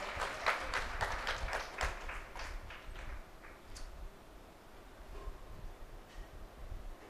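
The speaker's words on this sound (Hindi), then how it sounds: "जोरदार ताली।" Applause at a Guru Purnima festival stage event in Parvatsar, Nagaur, Rajasthan: a burst of clapping from the gathered crowd that is strongest at first, then thins into scattered claps and thumps, moderately loud and somewhat distant.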